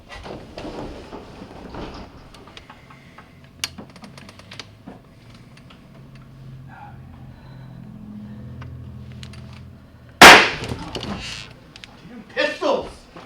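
A single loud pistol shot bursts out offstage during a stage play, a sudden sharp crack amid quiet dialogue, followed by excited voices shouting.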